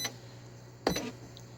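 A Royal Alpha 1100ML cash register being keyed for a sale gives a single sharp key clunk followed by a faint, short electronic beep in an otherwise quiet room.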